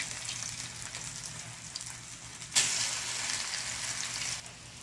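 Breadcrumb-coated eggplant fries in hot oil over low heat, a steady close hiss and crackle that jumps louder partway through as more oil spatters, then eases slightly near the end.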